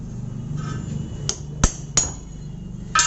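Sharp metallic hammer blows, three distinct strikes plus a final one, knocking a drill drift to free a drill chuck from a drill machine spindle, with a wooden block beneath; close and loud over a low workshop hum.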